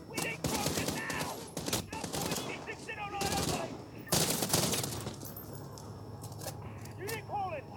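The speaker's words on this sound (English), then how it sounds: "Automatic weapon." Automatic weapon fire in the video game Call of Duty: Modern Warfare: sharp, repeated bursts of gunshots scattered through the scene, mixed with radio-style voices talking throughout.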